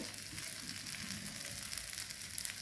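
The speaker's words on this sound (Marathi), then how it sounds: "आलटून पलटून दोन्हीकडून भाजून घ्यायचं आहे धिरडे" A mung bean and rice dhirde pancake roasts in a hot pan, giving off a steady, close sizzle and crackle that holds evenly throughout, with no voices.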